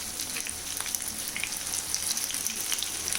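Samosas fry in a pan over a low flame, giving a steady close sizzle with dense crackling and small popping spatters throughout.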